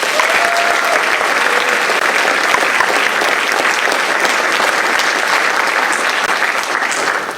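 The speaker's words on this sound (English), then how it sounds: "I would still love to celebrate and clap for Cheyenne Frost" Steady, dense applause from an audience at a high school academic awards night, loud and close, holding evenly throughout before easing slightly at the end.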